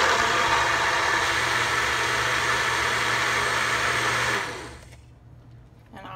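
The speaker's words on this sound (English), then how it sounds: "In my bullet blender." A small bullet blender whirs loudly and steadily for several seconds, then cuts off, leaving a quiet hum.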